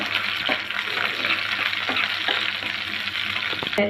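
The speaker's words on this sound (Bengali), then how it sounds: "দিয়ে দেবো হাফ চা চামচ কালো সর্ষে আর জিরে ভেজে নেব" Black mustard seeds and cumin fry in hot oil for a pickle, producing a loud dense sizzle with rapid crackling and a few spoon taps against the pan.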